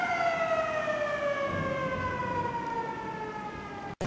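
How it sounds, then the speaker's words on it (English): A tornado siren sounds at a lock and dam, a loud steady wail with a slowly falling pitch that fills the whole stretch before cutting off abruptly near the end. "You can't beat a tornado siren."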